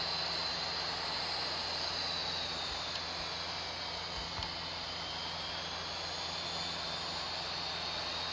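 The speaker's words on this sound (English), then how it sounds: "let's go ahead and start our takeoff roll" Boeing 737 MAX jet engines spooling on a takeoff roll in Real Flight Simulator, a steady broadband roar with a faint high whine, constant and fairly quiet throughout with no talk.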